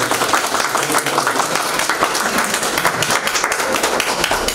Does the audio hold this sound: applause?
yes